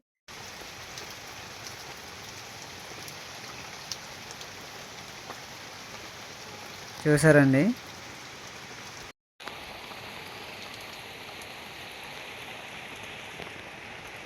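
Heavy rain pours steadily on a hillside in tribal country, a dense even hiss of drops on surfaces throughout, with a short louder burst of clatter midway, a brief dropout, and a voice speaking briefly.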